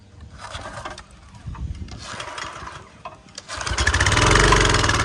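A Craftsman pressure washer engine is pulled over in a couple of sputtering attempts before it catches, then settles into a loud, close, steady running drone.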